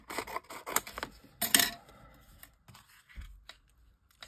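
Scissors snip through material used for making aperture dies, several quick close cuts in a cluster, then a few softer, sparser snips and rustles, with no talking.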